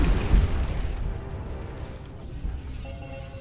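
An axial cannon fires in the space game Starcom Nexus, a deep booming blast with a low rumbling tail that fades over a few seconds, followed by faint electronic tones.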